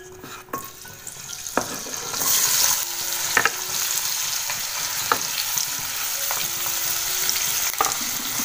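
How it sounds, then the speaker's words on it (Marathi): Oil sizzles steadily as chilies, curry leaves and onion fry, with occasional sharp clicks of a spoon stirring the pan. "सगळ्यात आधी आपण टाकूया आता मिरची आणि कढीपत्ता आणि कांदा."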